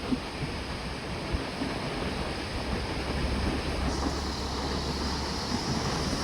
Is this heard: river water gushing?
yes